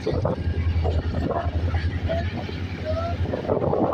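An EMD HGMU-30 locomotive, unit 8217, hauling the Shah Latif Express on the Karachi line, chugging steadily with a deep, continuous engine throb close by, with wind noise over the microphone throughout.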